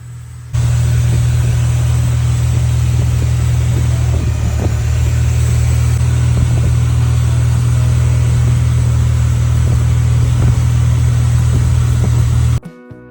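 A long-tail boat engine drones steadily and loudly as the boat travels through a lagoon beside a mangrove forest, a constant low hum that cuts off abruptly near the end.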